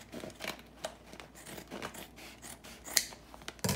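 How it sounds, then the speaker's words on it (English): Scissors snipping open a plastic bag of beans in a home kitchen, several crisp cuts and crinkles spread irregularly, close and clear with no talk. "So I guess I have to cut this bag?"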